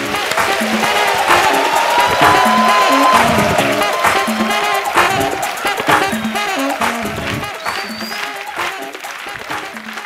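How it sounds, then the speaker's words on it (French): A live comedy-show audience bursts into loud applause and cheering as a comedian is introduced, the clapping dense and sustained with shouts mixed in, easing slightly toward the end. "Samia, sous vos applaudissements."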